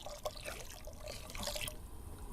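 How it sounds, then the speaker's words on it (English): Hot water and vegetable stock poured into a watery coconut curry with butternut squash and sweet potatoes, a close trickling, splashing pour with small drips and clinks. "now some vegetable stock, and that's to say hot water and vegetable stock granules."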